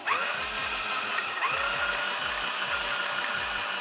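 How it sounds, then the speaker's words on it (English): A cordless drill spins a 3D printer filament spool on its chuck, giving a steady motor whine with repeated rising pitch sweeps as it speeds up and runs, close and alone without talk. "And then you get yourself a cordless drill."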